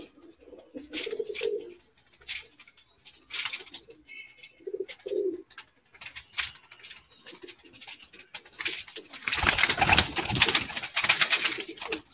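A large breeding pigeon coos in short, throaty bursts, with scratching and shuffling around it and a denser, louder stretch of activity toward the end.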